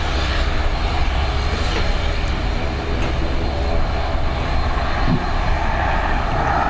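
A fixed-wing airliner takes off at Dublin Airport, its engines roaring loud and steady throughout at close range, with no voices over the sound.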